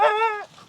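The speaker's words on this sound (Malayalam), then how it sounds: "പട്ടി കടിക്കരുതേ." A dog in a forest village in Tamil Nadu gives a single close, clear harmonic yelp or bark that fades out quickly.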